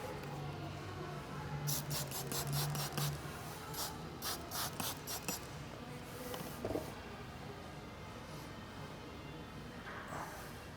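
Soapy solution sprayed in several quick bursts of hissing pumps while tint film is applied to a 2022-2025 Honda Civic Hatchback tail light, the bursts grouped in two clusters over a faint background.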